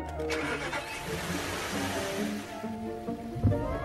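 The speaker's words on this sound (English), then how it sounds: "Let's see if it starts up." A frozen Audi R8 cranks and its engine starts in cold conditions, a rough mechanical churn settling into a running idle, with a soft thump near the end.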